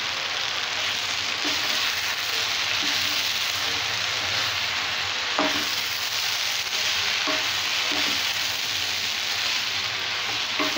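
Bread pieces stir-fried in a hot pan for chilli bread, a steady close sizzle with a few soft scraping stirs of the spatula, no voices.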